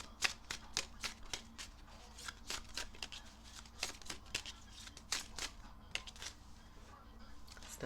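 Tarot cards are shuffled for a reading, making a quick run of crisp riffling slaps and flicks in an uneven rhythm, close and fairly quiet.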